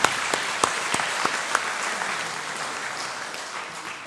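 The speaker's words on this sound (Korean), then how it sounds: "우리 감사의 마음을 담아서 우리 유준자 권사님께 박수 한번 하도록 하겠습니다." A church congregation claps for an elder during a Sunday worship service. A few sharp individual claps open the sound, then dense, steady applause fills the room and slowly fades, with no voices.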